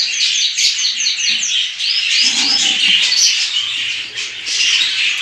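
Budgerigar chicks in a nest box give rapid, loud, close chirps and squawking begging calls in overlapping bursts, with faint rubbing and shuffling beneath them.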